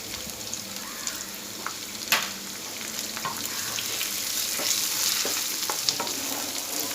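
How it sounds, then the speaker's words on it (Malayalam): Onions, green chilies and curry leaves sauté in a pan, giving a steady close sizzle broken by occasional scrapes and knocks of a stirring spoon, with no talking. "വഴന്ന് വരുന്നവരെ നമുക്ക് ഇളക്കി കൊടുക്കാം."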